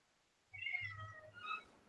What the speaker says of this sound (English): Hey, look, your kitty.